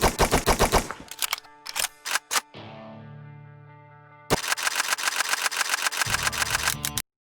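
Rapid automatic gunfire in the VR zombie shooter Containment Initiative comes in bursts, then a mechanical reload and hum, then another long sustained string of shots, loud and close with no talking.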